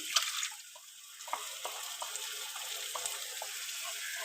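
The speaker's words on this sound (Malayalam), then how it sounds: "നമ്മൾ ചൂടുവെള്ളത്തിൽ അങ്ങ് ഒഴിക്കുകയാണ്." A liquid mixture trickles and splashes into hot water while stuffed brinjal is cooked, with faint sizzling and small clinks, a steady quiet wash of pouring sounds with no talking.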